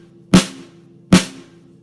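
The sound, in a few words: snare drum being played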